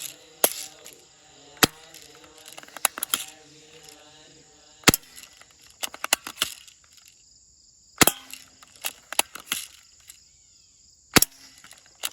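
Sig Air MPX air rifle shot at close range, sharp isolated cracks spaced irregularly across the span, each a brief broadband snap with pellet impacts and quiet gaps between, no talking.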